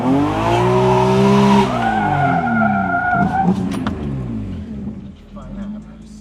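A BMW E46 fitted with a 4.10 rear gear ratio accelerates hard in second gear. The loud engine note climbs steadily in pitch, then eases and fades as the run ends.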